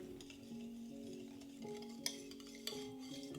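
Semolina being whisked into a marmalade loaf cake batter in a bowl: soft rhythmic scraping and a few light metallic clinks of the whisk against the bowl, quiet and close.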